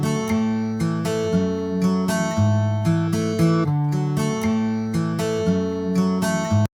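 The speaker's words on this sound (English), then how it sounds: "This is just my guitar going into my mic chain" Clean, unprocessed double-tracked acoustic guitar plays strummed chords and picked notes in a steady rhythm, close-miked and alone, stopping abruptly at the end.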